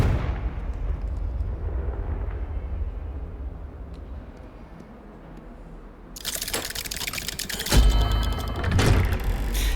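Confringo curse fired in Hogwarts Legacy: a quiet stretch of low rumble gives way to a sudden loud, bright fiery blast, then a second heavy boom and crackling debris, with no talking.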